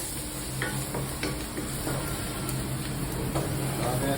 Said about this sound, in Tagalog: At ngayon magigisa-gisa tayo ng bawang.